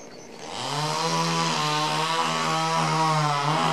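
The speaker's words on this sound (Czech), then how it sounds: "tohle vrtání začíná poměrně brzy ráno" Power drilling at a neighbouring building early in the morning, beside a guesthouse in Kovářov near Lipno: a loud, steady, high whining drone that starts after a brief quiet moment and runs on without a break.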